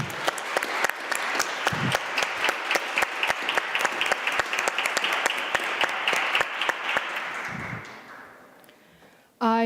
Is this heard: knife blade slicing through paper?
no